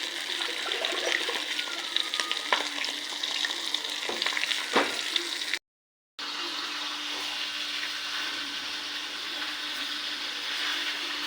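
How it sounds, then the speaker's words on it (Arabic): Spiced fish sizzles in a pan of hot oil, a steady loud crackling hiss that runs throughout with a short break midway and occasional sharper pops. "هذا السمك جاي نقليه، وهذا السمك جاي نقليه"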